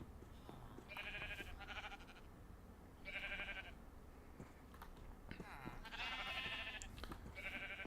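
Sheep in the Minecraft video game bleat in four distinct, clear calls spaced a second or two apart, with faint clicking and background game sounds running between them.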